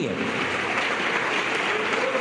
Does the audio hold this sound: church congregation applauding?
yes